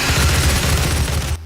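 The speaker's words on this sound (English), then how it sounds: "Doom is about guns first and foremost, and fighting demons with guns" Gunfire from the Doom demon-fighting shooter, a dense low rumbling volley of rapid heavy shots, loud and continuous, cutting off abruptly at the end.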